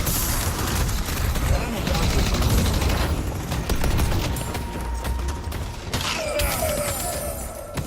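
A deployed turret in the game Deadlock fires rapid, continuous bursts of gunfire in a dense, noisy battle mix, with mechanical clanks and a brief electronic whine near the end.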